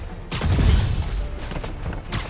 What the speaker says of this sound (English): Ranged enemies incoming. Watch out for gunfire.